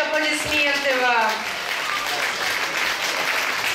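Parents get steady audience applause at a children's camp concert, the clapping continuous and fairly loud, with a voice speaking over it during the first second and a half.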